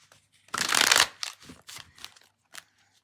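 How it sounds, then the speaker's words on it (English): A deck of oracle cards with gilded edges is shuffled close by, a dense riffle burst followed by several shorter, softer card flicks and slides, with no talking. "Let's give this a shuffle."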